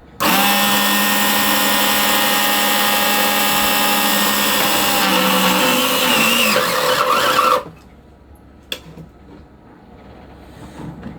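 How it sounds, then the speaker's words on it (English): Electric pump sucking fluid from the bilge of a Bavaria sailing yacht, a loud, steady motor whine with a slight pitch drop that cuts off abruptly after about seven seconds, leaving quiet with a faint knock. "I'm still going to prod around with the probe and see what that electric pump can bring up."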